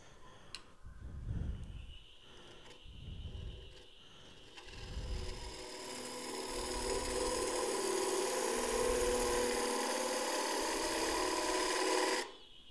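Wood being hollowed on a lathe with a 3/8 inch spindle gouge while turning a mug, a few rhythmic low rubbing passes give way to a sustained loud rasping cut that stops abruptly near the end.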